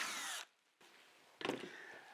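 A power drill bores a hole through wood, with a round object such as a pipe or dowel held steady in a notched bench-top jig. There are two loud, buzzing bursts of drilling separated by a quieter gap.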